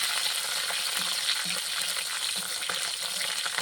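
Dried red chillies and whole garlic cloves fry in a generous amount of oil for mutton pickle, a loud, dense, continuous sizzle close by with faint bubbling, no talking.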